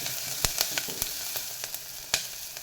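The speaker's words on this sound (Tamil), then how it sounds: "இந்த அளவுக்கு வதக்கிக்கோங்க வெங்காயத்தை" Onions sauté in hot oil in a pan for vegetable biryani, giving a steady close sizzle with sharp crackles and pops scattered throughout and no speech.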